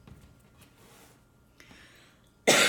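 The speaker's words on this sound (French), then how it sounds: "il faut que je tousse." A woman gives a single abrupt, loud cough at the end after a stretch of near quiet with faint breathing and small rustles.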